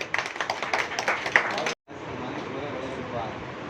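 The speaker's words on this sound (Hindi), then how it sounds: "तालियां बजाइए भाई आप" Rhythmic clapping from the audience at a large community conference in Delhi, mixed with voices, then a sudden cut and a steady murmur of crowd noise afterward.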